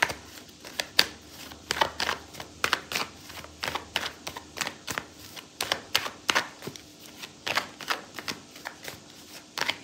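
Tarot cards shuffled by hand in steady rapid riffles and taps, a continuous crisp papery flutter with sharp clicks throughout, close and fairly quiet, with no talking.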